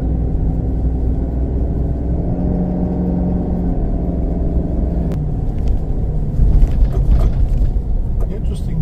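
A 2023 Chevy Silverado ZR2 Bison pickup sits in very soft sand with a loud, steady low engine rumble. The pitch shifts slightly as it idles down, and someone talks over it.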